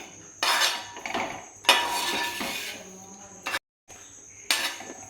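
Close scraping and clinking of a spoon stirring a sweet mixture of flattened rice with ground cardamom in a pan, in three separate bouts with a brief pause between them.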